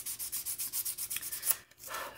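Plastic parts from a 1974 Ford MPC Econoline van model kit are sanded in quick, rhythmic back-and-forth strokes, close and fairly quiet, ending in a short soft puff of air.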